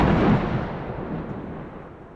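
A low, rolling rumble of thunder swells briefly and then slowly fades away into the distance.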